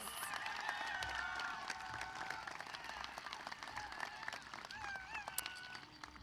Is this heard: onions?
no